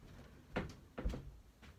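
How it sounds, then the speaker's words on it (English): A door being shut indoors, two soft, fairly quiet thuds about half a second apart, with no talking. "I'll shut the door."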